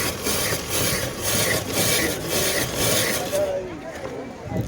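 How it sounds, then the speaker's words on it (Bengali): Ice being crushed for spicy jhal ice cream made with spices and lemon, a loud continuous grinding and scraping with rhythmic strokes that eases off near the end. "প্রথমে তারা এই যে আইসটা গুঁড়ো করে নিচ্ছে।"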